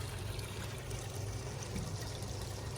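A pond pump runs in a backyard pond, water trickling and splashing back steadily at a low, even level with a faint hum beneath.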